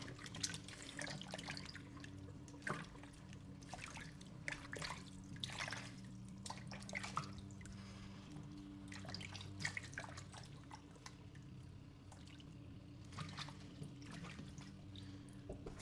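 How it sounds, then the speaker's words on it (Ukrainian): Tap water runs and splashes in a kitchen sink while freshly harvested garden vegetables are rinsed, with quiet continuous trickling and scattered small clatters and drips throughout, faint and close. "Я навіть теж промиваю от свої, не лише свої да, там овочі, а й ті, що купую."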